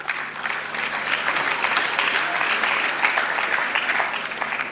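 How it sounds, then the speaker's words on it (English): Enthusiastic MBA students clapping in a seminar hall, a sustained, lively burst of applause holding steady for several seconds without any talk over it. "So you can clap after I'm done"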